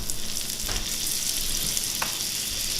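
Sliced mushrooms sizzle in butter in a cast iron pan, a steady close broadband frying hiss throughout with a couple of faint clinks, no talking.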